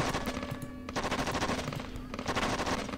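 Gunfire in The Nam: Killing Fields, a Cambodian War video game, comes as rapid rattling bursts of automatic fire, broken by short gaps and fairly loud throughout.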